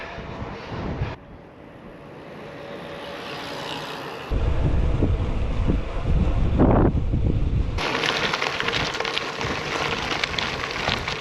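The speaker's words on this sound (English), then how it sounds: "I thought the headwind was going to be a little bit more brutal today, but it's actually not too bad" A headwind on the beach front at Prestwick on Scotland's west coast buffets the microphone of a cyclist in shifting gusts, rumbling low and loud through the middle and easing into a hissing rush, with no talking.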